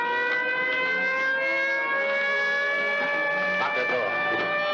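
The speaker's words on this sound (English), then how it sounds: "Don't you hear them sirens?" A steady, loud police siren drones continuously with a sustained tone in a 1940s film, while a voice speaks faintly underneath.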